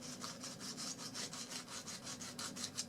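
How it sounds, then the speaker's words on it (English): Sandpaper rubbing small nubs off N-scale model parts in quick, even back-and-forth strokes, about a dozen close, scratchy passes with no talk. "So I take a piece of sandpaper and sand those nubs off"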